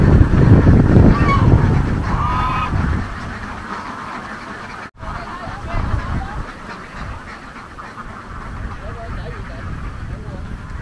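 A big flock of egg-laying ducks in Vietnam's Mekong Delta heads back to the pen, with geese leading, and scattered quacks and honks rise over a steady outdoor din. People talk over the birds throughout.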